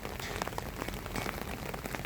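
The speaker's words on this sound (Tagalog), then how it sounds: "Umuulan ang panahon." Steady rain patters densely on a surface, a continuous close hiss with scattered louder drops.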